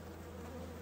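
Old World Carniolan honey bees swarm close around a phone during late-season hive work in a subarctic apiary, giving a steady, dense buzzing hum throughout with no talk.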